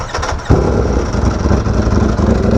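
A bright red, full-carbon Ducati Panigale V4R motorcycle fires up after a quiet start, its engine catching abruptly and settling into a loud, close, steady idle rumble with no talk.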